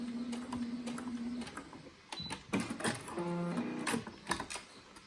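A sewing machine stitches a fabric facemask and reverses over the seam, making rapid mechanical clattering bursts that stop and start, close and fairly quiet.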